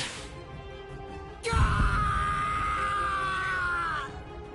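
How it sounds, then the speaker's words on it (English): A male character in the Bleach video game on PS5 lets out a sustained, loud scream of pain, starting abruptly and holding a strained, tonal cry for about two and a half seconds over rumbling game sound before cutting off. "compared to the screams that a woman is able to produce, a man's lack a certain charm"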